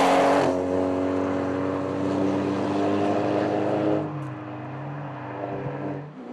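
A rally car on a Targa New Zealand tarmac stage roars past close and loud, its engine note sweeping down and fading as it drives away into the distance.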